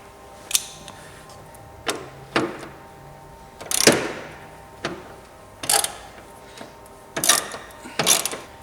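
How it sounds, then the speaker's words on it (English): A ratchet undoes 10mm bolts on a Toyota Auris under repair after a crash, giving about eight separate short clicking, ratcheting bursts spaced a second or so apart, close by with no talk. "I'm just going to go around and just take all the bolts out"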